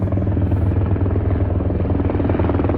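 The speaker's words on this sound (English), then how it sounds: "Whoa, is that a chopper?" A helicopter roars loudly and steadily overhead, its heavy rotor thump and engine drone filling the whole stretch without letting up.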